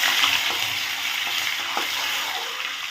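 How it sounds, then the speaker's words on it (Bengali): Butter cubes fry in hot white cooking oil in a pan, a steady close-up sizzle and crackle with a few soft pops, no voices. "দিয়ে দিলাম সাদা তেলের মধ্যে তোমার বাটারটা।"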